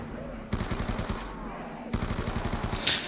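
Rapid automatic gunfire aimed at zombies in the Black Ops 2 Zombie mode on the Town map, two loud sustained bursts with a short pause between, over faint game background.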